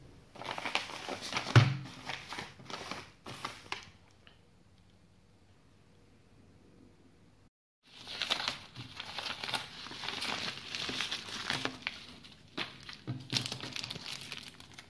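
A plastic cargo bag around a parcel holding a coin set gets handled and crumpled, with loud crinkling bursts for about four seconds, a quiet pause, then steady, continuous rustling and crackling up close.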